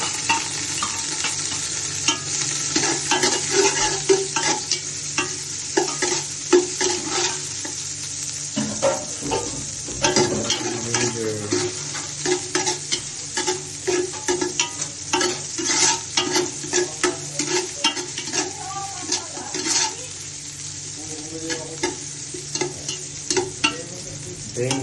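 Ginger stir-frying in a pan as the base for arroz caldo, a steady loud sizzle with scraping stirs and clatters running throughout, no voices.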